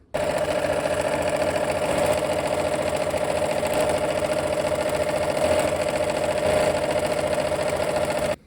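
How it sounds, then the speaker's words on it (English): A sewing machine stitching a quilt section runs in one continuous fast, even whir with a rapid mechanical rattle, close and steady for several seconds before stopping abruptly. "let's go ahead and sew"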